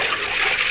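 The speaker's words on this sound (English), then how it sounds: "if it's gurgling like that, she's sealed up" Coolant gurgling while a car's cooling system is filled and sealed, a steady, close, rushing liquid sound throughout with no breaks.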